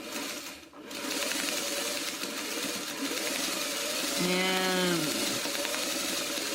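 A sewing machine stitches a thin fabric piece for elongated geese, running as a loud continuous mechanical whir with a pitched whine rising near the end.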